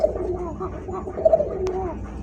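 Male Coca pigeons in a loft give soft repeated coos, close and fairly quiet, with low background noise and faint voices.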